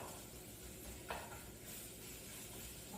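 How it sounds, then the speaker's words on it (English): Meat frying in a pan for lasagna gives a soft, steady sizzle with a faint brief clink partway through, and no voices. "you can get that frying on the fry pan"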